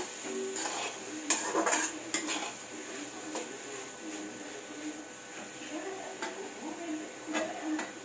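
Beetroot frying in a pan while being stirred, quiet sizzling with a series of metallic clinks and scrapes of the utensil against the pan, close but soft.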